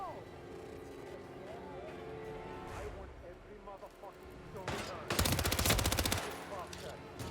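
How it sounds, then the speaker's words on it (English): Gunfire in a first-person shooter video game, with bursts of rapid shots late in the moment, loud and dense, mixed with game ambience and someone talking over it. "Where are those shots coming from?"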